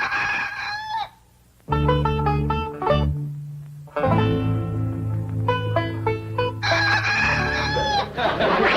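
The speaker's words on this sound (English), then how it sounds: "Earl, did you have to crow this early?" A rooster crows before daybreak in the classic Beverly Hillbillies sitcom, with several loud, close, drawn-out calls broken by short gaps and clucking.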